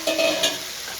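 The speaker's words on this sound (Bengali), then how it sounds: "এবার আমি ভালো করে মশলাগুলো কষিয়ে নেব।" Ground cumin, coriander, red chilli and Kashmiri chilli powders sauté in a pan for a potato chicken curry, a short close burst of sizzling with a brief stirring scrape, then a steadier hiss.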